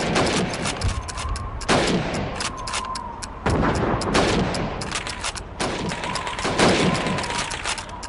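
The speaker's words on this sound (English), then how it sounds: "You have 15 seconds to shoot the helmets." Rifle gunshots fired at helmet targets on a shooting range in the video game Call of Duty 2, loud repeated cracks at an uneven pace over continuous background battle rumble.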